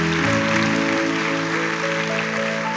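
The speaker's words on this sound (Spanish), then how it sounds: "Fuerte ese aplauso para Él." Congregation applause at a church sermon, a steady crowd clapping that blends with sustained held musical chords underneath throughout.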